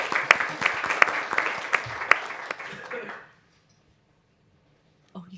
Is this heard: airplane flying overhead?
no